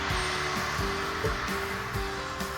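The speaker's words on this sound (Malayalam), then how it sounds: "1 കപ്പ് വിപ്പിംഗ് ക്രീം ഞാൻ ഒരു പാത്രത്തിലേക്ക് ഒഴിച്ചിട്ട് ബീറ്റർ വെച്ച് നല്ലോണം ഞാൻ ബീറ്റ് ചെയ്യുക കേട്ടോ" Electric beater whipping cream in a bowl, a loud, continuous whirring motor drone with a gently pulsing rhythm as the beaters move through the cream, close and steady throughout.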